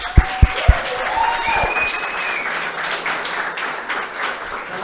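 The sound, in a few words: audience applause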